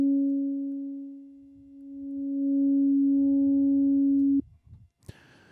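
A steady pure sine-wave synthesizer tone with formant-shift filtering holds for about four seconds with a soft filtered character, then cuts off abruptly, followed by a brief click and faint noise.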